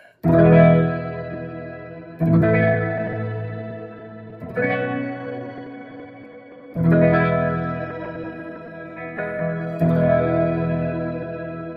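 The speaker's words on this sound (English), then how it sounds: "Now we will try the Shimmer Reverb from Boss GX10." A guitar played through the shimmer reverb of a Boss GX-10 rings out in five sustained chords, each blooming into a bright, washing tail that swells and fades before the next strum.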